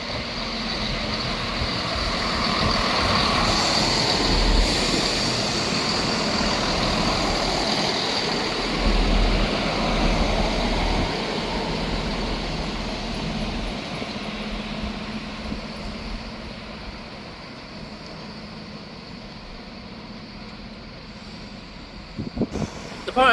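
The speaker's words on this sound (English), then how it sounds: "Arriving in now is the 1357 Scotrail service from Aberdeen to Edinburgh Waverley." A Scotrail passenger service from Aberdeen to Edinburgh Waverley pulling into Broughty Ferry station, a steady diesel engine rumble rising then slowly fading as it slows, heard from the platform with a few clunks at the end.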